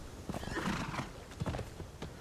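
A horse in a video game whinnies and clip-clops, a short neigh followed by a few hoof thuds, heard clearly and alone.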